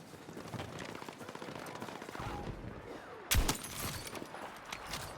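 A single sharp sniper rifle shot from a Mini Scout in Battlefield 6, a loud close crack cutting through continuous battle noise and distant gunfire, with the din carrying on afterwards.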